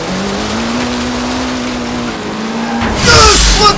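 Engine of a stock-tuned AWD Honda Civic Type R racing in Forza Horizon 3 on a touge road, a steady loud drone that rises, then tire squeal and a burst of louder noise near the end.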